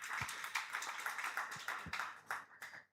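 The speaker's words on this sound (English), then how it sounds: "I think we can give them a round of applause." A conference audience applauding panelists, a short burst of scattered clapping, moderately faint and fading out at the end.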